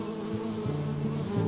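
Honeybees buzz around an open beehive as a beekeeper handles them, a dense, steady, close-up drone that stays loud and continuous throughout.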